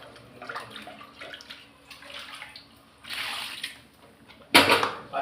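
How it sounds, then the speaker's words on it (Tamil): Water poured into a pot while cooking murungai keerai kulambu with rice and dal, heard as soft intermittent splashing and trickling, ending in a louder burst of pouring near the close. "கொஞ்சம் தண்ணி ஊற்றிக்கலாம்."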